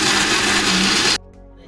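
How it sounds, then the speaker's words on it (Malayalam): A mixer grinder (mixie) grinds spices dry with no water added for a Tamil Nadu style fish curry, a loud steady motor whir that cuts off abruptly after about a second, leaving faint clatter. "ഇപ്പം നമ്മൾ മിക്സി അരയ്ക്കാണ്"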